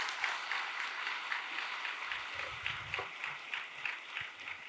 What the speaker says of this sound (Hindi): तालियों की गड़गड़ाहट करें